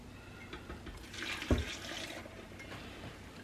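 Soaking water from dried chiles poured into a blender for Instant Pot birria, a quiet splashing pour with one brief louder slosh, alone without talk.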